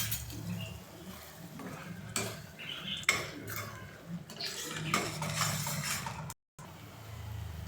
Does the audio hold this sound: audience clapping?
no